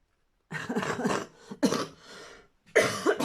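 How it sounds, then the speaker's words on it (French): A few close, fairly quiet coughs and throat clearings come in short bursts with brief pauses between them, in a quiet indoor room during a scrapbook art-journal crafting session. "Ça tousse encore un peu."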